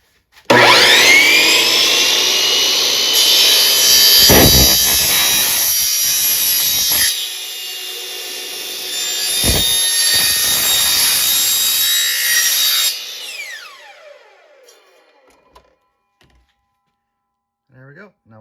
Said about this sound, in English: we're going to be actually using the miter saw to cut them